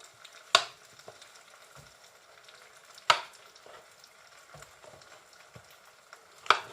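Mushrooms frying in an oiled pan for a vegan curry give a soft, steady sizzle, broken by three sharp clatters of stirring or pan knocks spaced a few seconds apart.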